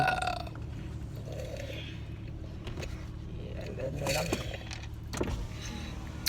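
A low, drawn-out burp rises inside a car with a steady engine drone, followed by brief voices and a short scrape.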